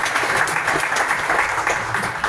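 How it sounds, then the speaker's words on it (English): An audience at a tech demo night breaks into brief, dense applause, a steady patter of many hands clapping with no talking over it. "let's give Robbie a round of applause."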